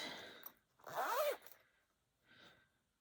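A green zipper on a fabric bag holding thread spools is pulled in one quick, close rasping stroke, followed by a shorter, softer zip a moment later, with faint handling rustle before.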